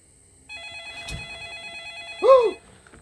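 A telephone rings with a steady electronic tone lasting about two seconds, followed by a short louder warbling burst near the end, close and fairly loud with no speech over it.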